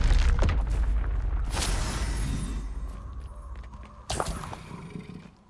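Spells cast in Hogwarts Legacy: a series of sharp magical blasts and whooshing bursts, with a big hit at the start, another around the middle and a crack near the end, loud and alone.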